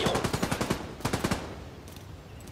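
Rapid bursts of automatic gunfire from an online multiplayer shooter game, two close, loud volleys of quick successive shots separated by a short pause, then a quieter tail of ambient noise.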